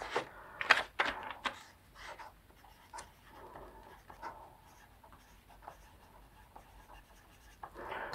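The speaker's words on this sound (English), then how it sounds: "Let me get a pencil. Write it down." A pencil scratching across paper, with quick scribbled strokes at first, then steadier, softer writing that continues close up and without talk.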